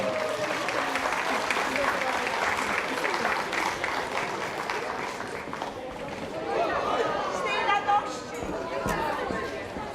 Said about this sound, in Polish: Serdeczne brawa.